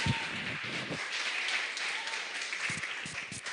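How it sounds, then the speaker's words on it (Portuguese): A church congregation bursts into sustained, lively applause during a Portuguese-language sermon, with dense clapping filling the room and a few louder claps near the front. "dê uma salva de palmas bem alegre e feliz a Ele"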